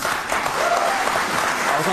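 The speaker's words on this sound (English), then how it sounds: "That was very strong applause that you could hear spread throughout the entire studio audience" Studio audience at a political talk show breaking into strong, sustained applause, a dense even wash of clapping that fills the room steadily throughout.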